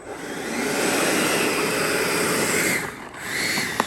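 A loud, steady engine roar with a high whine from a Freewing MiG-29 model jet with twin 80mm ducted fans runs almost without pause, dipping briefly near the end before picking up again, close and alone.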